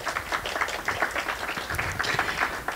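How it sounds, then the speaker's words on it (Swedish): Audience at a research breakfast seminar gives a round of applause, many hands clapping in a dense, even patter at moderate volume for a few seconds. "Så vi får väl ge en applåd till dem som inte är här."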